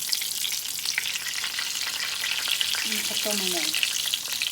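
Eggplant slices fry in hot oil with a steady, dense sizzle that runs throughout, close and fairly loud, while a voice speaks briefly near the end.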